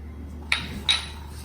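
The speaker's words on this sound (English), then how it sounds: "we have to go on stirring the bread that we had put in" A spoon clinks twice against a pan while stirring bread into thickening, melting milk with cardamom for bread kheer. The two sharp metallic taps come about half a second apart over a low steady hum.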